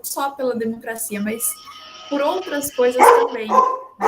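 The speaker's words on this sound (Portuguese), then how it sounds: "perdão pelo cachorro" Dog barks in short bursts from a room nearby, popping up intermittently beneath steady talk as someone speaks in Portuguese during an online lecture.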